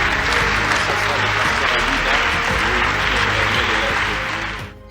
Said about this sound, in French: La joie est immense, on peut encore applaudir.